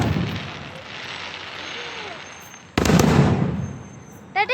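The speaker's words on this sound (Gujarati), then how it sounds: "જો ફટાકડા ફૂટે" Firecrackers burst outside near a Hanuman temple at Sarangpur, a loud crackling volley that flares suddenly and then a quick rattle of small pops, with people's voices around them.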